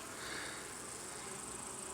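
Honeybees rummage through debris at an apiary hive, a faint, steady, continuous buzzing hum with no voices.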